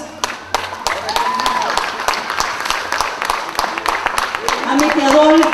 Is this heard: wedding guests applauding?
yes